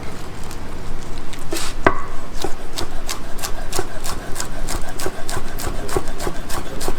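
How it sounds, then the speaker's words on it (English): Knife chopping fresh parsley and rolled basil on a cutting board, a string of sharp, evenly spaced close taps in a steady rhythm, with one louder knock early on and a faint background hum. "Okay, so I chopped all my herbs up."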